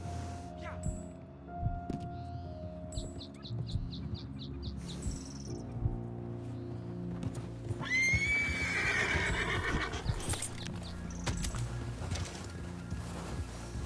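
Horse in the Red Dead video game whinnies with a long, loud neigh midway, while hooves clip-clop and other game sounds continue around it, with people talking underneath.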